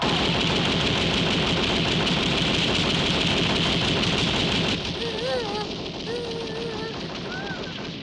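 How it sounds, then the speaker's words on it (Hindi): Sustained dense rifle fire from soldiers in a war film battle scene, loud and continuous rattling for about five seconds before it drops away, leaving softer sounds and a brief voice. "हाँ तो जवानों, जरा देखें कि गोली कैसे लगेगी। फायर!"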